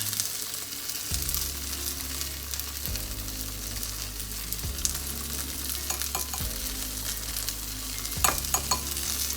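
Sesame garlic tofu sauce of rice wine vinegar and cornstarch is stirred in a pan. The close scraping strokes repeat in a steady rhythm about every two seconds over a light sizzle, with no talking.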